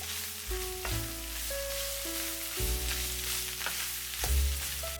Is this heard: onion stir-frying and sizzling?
yes